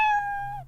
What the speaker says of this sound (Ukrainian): Кот – це кіт, і він каже мяу